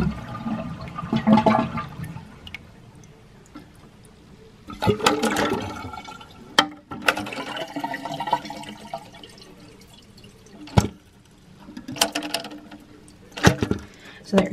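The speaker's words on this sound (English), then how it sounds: "we're just going to flush the toilet until the water drains out" A household toilet flushes repeatedly with its water supply shut off, each flush a loud gurgling rush of draining water followed by drips and trickles, alone without talk.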